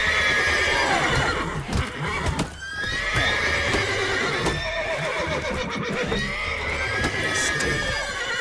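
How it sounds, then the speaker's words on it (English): Horses in The Witcher 3 whinnying and neighing loudly and repeatedly, close by, over a steady busy clatter of hooves and stable sounds, with no talking. "those horses are so loud"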